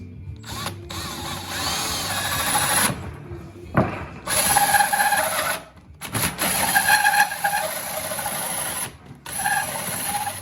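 A power drill bores a 3.5 inch hole through a wooden board for a wood duck house, loud and close, running in several long bursts separated by short pauses.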